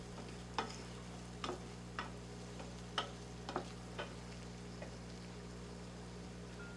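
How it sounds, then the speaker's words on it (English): Shrimp and seasoning stirred in a skillet: a soft, even sizzle with a low steady hum beneath, and a handful of sharp scraping strokes spaced about a second apart, close, with no one talking. "Remember to keep stirring this. It will stick to the pan."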